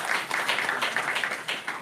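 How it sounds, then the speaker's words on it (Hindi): Audience applause at a Hindi spiritual satsang gathering, a steady wash of many hands clapping for about two seconds with no talking over it. "आपके लिए, आपके माता जी के लिए तालियां"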